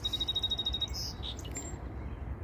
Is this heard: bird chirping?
yes